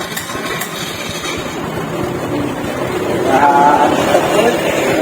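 A Honda Supra X 125 motorcycle with a newly fitted alarm idles nearby, giving a steady low engine rumble that swells slightly toward the end while a voice talks over it.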